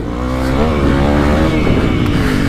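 Honda CRF300L dirt bike engine revving hard while riding, with a loud close buzzing drone that rises in pitch and is mixed with wind noise, and no talk.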